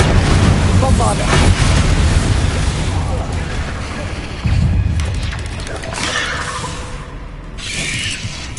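Bombarda blasting spell explosions in Hogwarts Legacy, loud continuous crashing blasts and rumbling debris over a busy combat mix, with overlapping bursts and a voice in the background.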